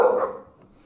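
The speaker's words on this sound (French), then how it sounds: "Oh, des chiens de garde." A guard dog gives a single short, loud bark close by, and the sound fades quickly to quiet.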